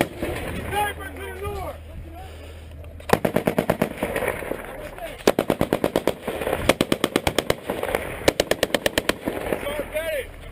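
Rapid bursts of automatic gunfire crackle through a U.S. Army firefight in Afghanistan, with repeated volleys from a machine gun over a steady background rumble and voices underneath.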